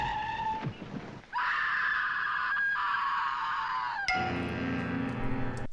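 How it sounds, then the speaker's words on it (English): A woman in a TV episode lets out a long, loud, sustained scream, breaking off briefly and then resuming at a higher pitch, close and piercing with no other voices. "we get that intense zoom on the woman screaming"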